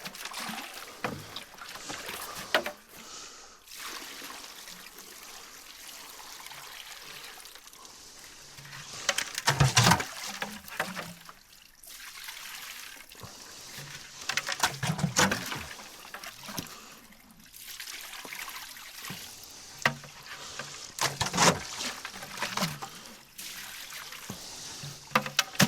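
Water rinses over a sluice mat while gold is washed out, with splashing, trickling pulses that swell and fade in bursts throughout, close and moderately loud.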